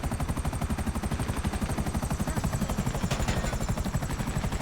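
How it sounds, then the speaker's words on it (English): Small helicopter in GTA Online flying with a loud, steady rotor chop, rapid rhythmic blade thumps running continuously close up, with engine whine above, no talk. "I know you're a small helicopter, but you can fly."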